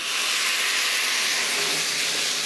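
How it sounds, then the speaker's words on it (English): Sherry hitting a hot sauté pan with steak, producing a loud, steady, continuous hiss of sizzling and steam that holds throughout. "I'm going to throw my sherry into the pan"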